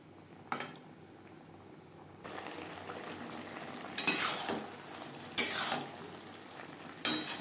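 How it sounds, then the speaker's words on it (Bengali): Chickpeas stir-fried with masala spices in a pan, heard as quiet scraping and sharp spatula clinks against the metal, several distinct knocks spaced across the stirring. "মশলার সাথে চানা আরও 4-5 মিনিট বেশ ভালো করে কষিয়ে নেব।"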